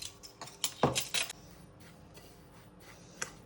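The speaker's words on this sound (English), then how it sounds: "we're going to use a fork to mix it." A fork clinks and scrapes against a bowl while mixing cumin in, with a quick cluster of sharp taps early on, then quieter scraping and one last light clink.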